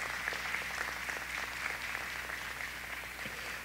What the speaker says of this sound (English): Let's give them a round of applause, everybody.